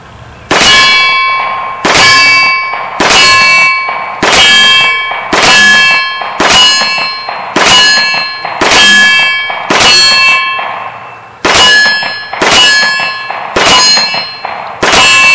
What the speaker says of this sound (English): Levi's getting ready to shoot his second mag